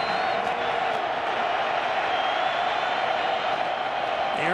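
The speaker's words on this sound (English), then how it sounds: "Crowd rises to its feet once again." Stadium crowd at a college football game, Utah State at Boise State, giving a dense, sustained roar of cheering that stays loud and even throughout, with commentary faintly mixed in.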